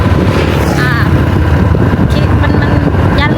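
Steady, loud wind rush buffets the microphone of a moving vehicle on the road in Laos, a continuous roar with faint voices talking underneath.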